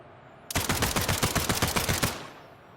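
A pistol fires in rapid succession in a video game, about fifteen sharp, loud, evenly spaced shots in a quick burst that ends abruptly, with no talking over it.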